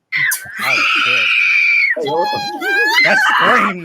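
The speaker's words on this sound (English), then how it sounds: "That was a Sam Raimi scream" The stock Sam Raimi scream effect rings out in a fantasy video game fight with goblins, a loud, drawn-out, shrill wail with a few shorter yelps and cries right after it.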